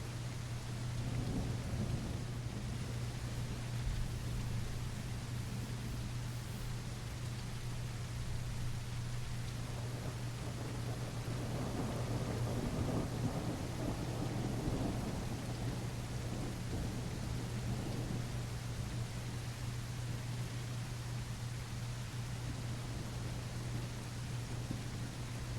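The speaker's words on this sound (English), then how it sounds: "This rain just doesn't stop." Thunderstorm in The Isle Evrima: steady heavy rain hiss with a persistent low hum beneath and rolling thunder swelling in the middle stretch, no voices.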